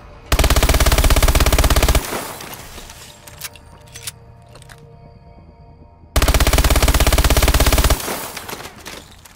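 MP11 submachine gun in Call of Duty Advanced Warfare fires two sustained full-auto bursts, loud and close, separated by a few seconds of quieter game ambience.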